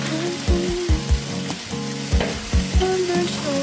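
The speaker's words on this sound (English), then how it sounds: "In a small pan on medium heat, I put some olive oil, to which I added the onion." Onion and sweet potato fry in olive oil in a small pan over medium heat, a steady close sizzle with repeated scraping thumps of stirring. Nobody speaks.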